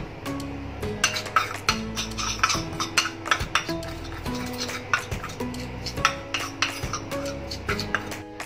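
Red chili, asafoetida, coriander-cumin and mango powders are mixed together in a metal bowl or pan with a spoon. The spoon scrapes and clinks repeatedly in a steady, close, brisk rhythm.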